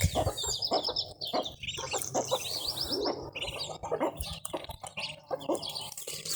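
Broody hens cluck and chirp repeatedly close by, with a person talking intermittently over the birds.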